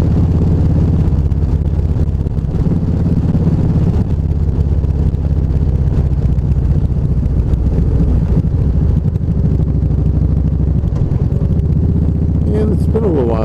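A lowered slam-style Harley Vaquero motorcycle riding a rough road, its engine a steady loud rumble mixed with heavy wind buffeting across the microphone, someone talking over it throughout.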